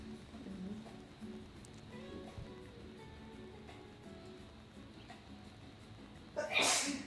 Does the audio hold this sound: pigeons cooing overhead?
no